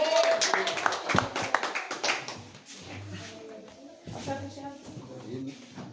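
Congregation at a home worship service clapping to welcome the preacher, a brief scattered burst of hand claps at the start that fades under voices talking.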